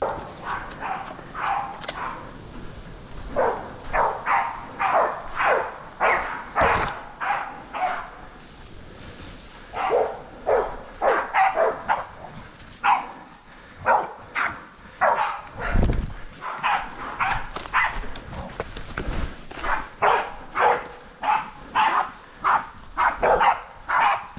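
Hunting dogs barking during a wild pig hunt in a bush gully, a close, loud run of rapid, repeated barks and yips in clusters, with short pauses between bursts and no talking.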